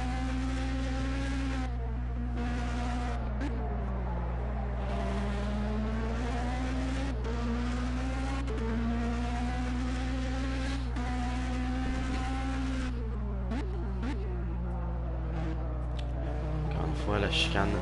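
A Shifter 125 kart engine in Project CARS buzzes high and nasal, its pitch rising and falling through gear changes and corners, while someone commentates in French over it throughout.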